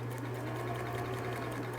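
A sewing machine stitches a straight seam on a fabric cap, a steady close hum with a constant low motor drone and fast even needle rhythm, alone and unbroken.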